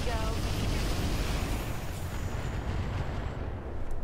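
Mech in a BattleTech game loosing all its weapons at once, a dense wash of rumbling blasts and booms filling the whole stretch, loud and continuous with crackling bursts layered on top.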